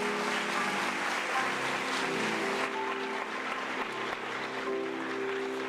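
Applause from the audience at a senior women's pageant, a dense sustained clatter of many clapping hands, mixed with a faint steady tonal hum and slight dips near the end.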